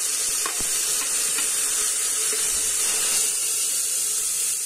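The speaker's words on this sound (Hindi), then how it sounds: "प्याज लाल होने तक इसको भून लेते हैं।" Onions frying in a pan for a Hindi-style stuffed brinjal in yogurt dish, giving a steady close sizzle and hiss throughout with a few faint clinks and no talking.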